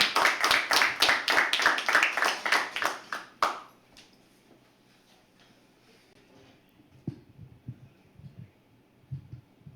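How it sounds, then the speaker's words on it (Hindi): An audience at a live poetry open mic claps in a dense burst of applause that stops abruptly, followed by a quiet room with faint rustles and small knocks. "एक बार अभिदेव जब तक मंच पर ना आ जाए तब तक तालियां बजती रहे"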